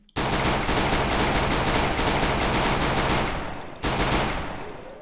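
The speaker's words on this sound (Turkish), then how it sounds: "Vurdum baya. Onlar da beni vuruyordu arkadaşlar." Loud automatic gunfire in the Free Fire mobile shooter game, a long rapid burst that tails off, then a second burst starts near the end with no talking.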